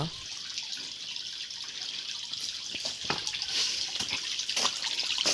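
Water at a mountain spring flows steadily with a soft, continuous rush and occasional splashes and drips nearby, no voices.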